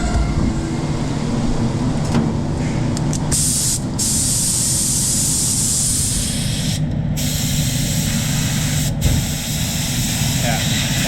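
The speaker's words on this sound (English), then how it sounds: "Give it a quick spray through, clean it out and make sure it's spraying properly." A spray gun hisses loudly and steadily spraying clear coat, broken by a few very brief pauses, with a muffled low mechanical hum underneath.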